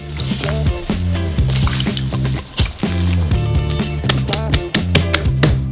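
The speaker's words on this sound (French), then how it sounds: "Versez 300 ml d'huile et pétrissez à la main." Dough kneaded by hand with 300 ml of oil, giving wet squelching, sloshing and slapping sounds in irregular bursts, close by, with music underneath.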